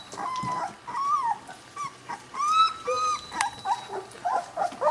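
Three-week-old Chinook puppies in a litter pile whimper and yip in short, high, wavering cries that repeat close by, with no talk.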